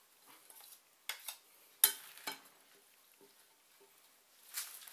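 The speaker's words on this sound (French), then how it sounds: "Vous mélangez la salade avec le thon, le maïs." Salad being tossed with tuna and corn makes soft, irregular rustles and light wet clatters from utensils in a bowl, a few sharper knocks among quiet gaps.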